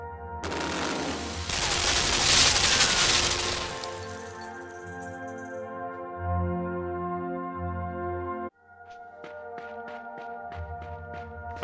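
Guns firing in the puzzle game Limbo: a long, loud burst of harsh crackling fire that swells and fades over a low droning ambience, followed later by a quick run of evenly spaced sharp clicks.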